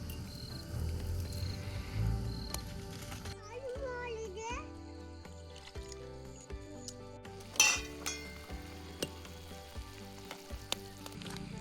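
Prawns sizzle and fry steadily in a pan over a continuous crackle, with occasional utensil clinks and a brief scrape, while someone talks over the cooking.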